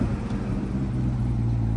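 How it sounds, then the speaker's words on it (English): A C8 Corvette Convertible engine rumbles steadily at low pitch, close and continuous, with a slight rise in revs toward the end. "when you start the car like this"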